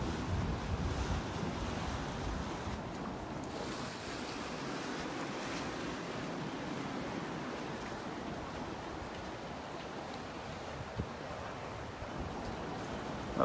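Ocean waves wash onto the beach beside Naples Pier on a Sunday morning, a soft, steady surf hiss with light wind, fairly faint and continuous, no voices.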